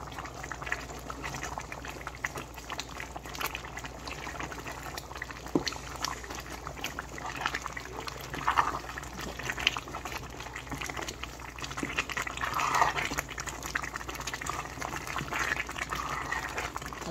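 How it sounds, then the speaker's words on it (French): Peanut paste being stirred into simmering Congolese saka saka cassava leaves, a soft continuous bubbling and gentle liquid churn close by, fairly quiet, with no talking. "Donc je vais mélanger la pâte d'arachide en tout cas dans mon saka"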